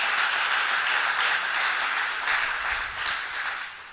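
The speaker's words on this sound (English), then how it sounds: "A big round of applause to you, our biggest cheerleaders." Audience applause at a high school spring concert, a steady wash of many hands clapping that holds strong and then starts to fade toward the end.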